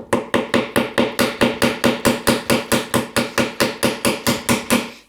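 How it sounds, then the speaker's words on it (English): A mallet drives a narrow chisel into wood to cut a mortise for a trestle table, striking about twenty sharp, evenly spaced blows at a brisk steady rhythm, close and loud with no talk. "bring out my narrow chisel again. I'm going to go right down the middle of this."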